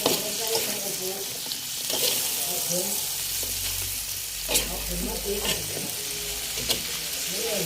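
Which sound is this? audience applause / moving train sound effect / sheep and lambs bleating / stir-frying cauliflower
stir-frying cauliflower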